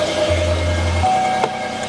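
A Porsche 911 Carrera with its check engine light on idles nearby, giving a steady low rumble with a brief deeper hum and a faint click partway through.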